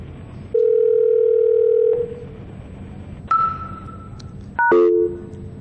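The Gizmo VoIP client plays a call dialing sequence. A steady dial tone sounds for over a second, then a pause, and then several short electronic beeps and tone pairs play at close range.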